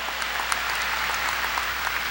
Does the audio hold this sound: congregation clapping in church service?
yes